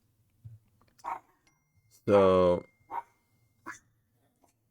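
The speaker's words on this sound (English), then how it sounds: "sorry about the dogs." Dogs bark in a few short bursts, one louder sustained bark in the middle, with quieter yips around it and a person saying a word at the start.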